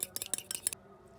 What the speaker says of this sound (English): And lastly, our egg, but before we add it, we just beat it a little.